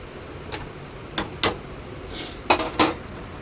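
Spoon scraping and clinking against a pot while food is stirred, several short sharp knocks spread out with a brief rustle between, fairly close with no talking.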